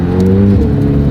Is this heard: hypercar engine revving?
yes